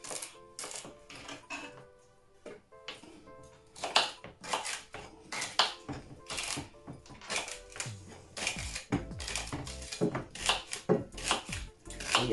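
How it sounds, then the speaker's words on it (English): Knife strokes chop washed green vegetables for a detox juice, a dense run of sharp, irregular taps on a cutting board with brief pauses, close and fairly loud, no talk. "These have all been washed and now I'm just chopping them up."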